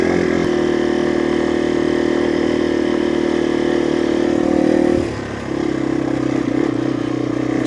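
A Yamaha TW200 dual sport motorcycle is ridden with a steady close engine drone, then a brief dip in revs around the five-second mark before it picks back up.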